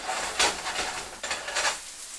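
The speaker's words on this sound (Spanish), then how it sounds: "Dejar que esto se cocine bien para que se integre bien y no se rompa nuestra tortilla de yema de huevo." An egg tortilla made from egg whites cooks in a pan, giving a soft continuous sizzle with a few light scraping, utensil-on-pan clicks; moderately quiet and close, with no talking.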